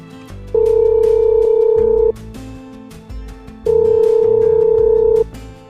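A telephone ringback tone on an unanswered call, two long ringing bursts separated by a pause, loud and clear with a soft music bed underneath.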